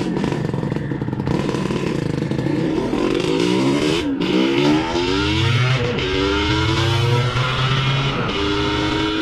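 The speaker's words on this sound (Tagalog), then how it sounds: "Umahataw tayong ating motor" A Yamaha RXT135 two-stroke motorcycle revs and pulls away, its loud engine rising and falling in pitch through several gear changes, close and continuous.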